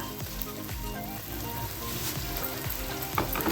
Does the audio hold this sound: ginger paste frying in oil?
yes